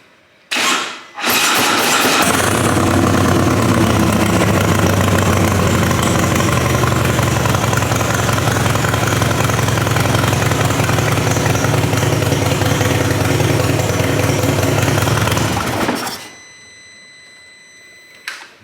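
A Harley motorcycle, salvaged and being reassembled with a suspected battery drain, cranks and catches, then settles into a loud, steady idle that runs unbroken for about fifteen seconds before cutting off.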